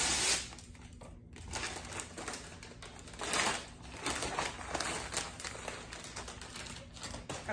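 A plastic shapewear bodysuit package being pulled open by hand, a steady close crinkling and tearing rustle of plastic for several seconds, with no talking.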